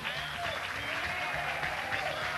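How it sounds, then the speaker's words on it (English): A radio studio audience applauds Deb Johnson during a special live show, steady dense clapping filling the whole stretch at moderate volume, with no distinct voices over it. "Ladies and gentlemen, a big round of applause for Deb Johnson"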